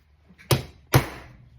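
A center punch is struck twice on a knife handle to mark pin holes, two sharp, close metallic taps about half a second apart in a quiet workshop.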